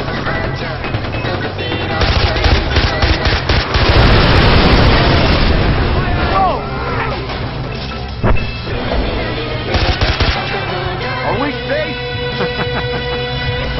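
Machine gun fire rattles through a vehicle chase in the video game Far Cry 4, loud sustained bursts mixed with booming impacts and engine noise, steady and close.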